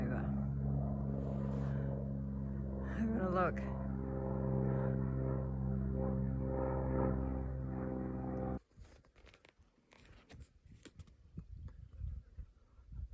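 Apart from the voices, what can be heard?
airplane flying overhead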